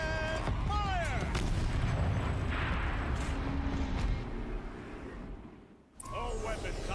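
Turret fire from the video game Horizon Zero Dawn: loud, dense rumbling bursts for about four seconds, fading out, then a brief gap before more sound returns. A voice talks over the start.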